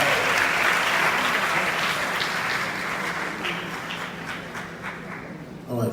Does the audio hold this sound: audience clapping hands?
yes